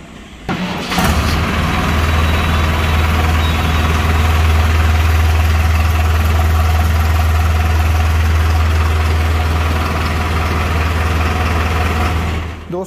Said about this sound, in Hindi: अब दोस्तों आपको ट्रैक्टर की आवाज़ सुनवाते हैं, ट्रैक्टर को स्टार्ट करते हैं, आप लोग सुनेंगे किस तरीके की कैसी आवाज़ देखने को मिलती है।